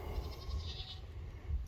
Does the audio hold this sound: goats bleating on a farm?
yes